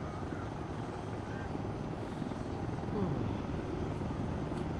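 Helicopter in the Arma 2 military game banking and slowing toward a hover, a steady rotor and engine drone filling the whole stretch at close range, with a slight swell near the end.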